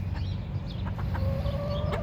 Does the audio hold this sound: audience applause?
no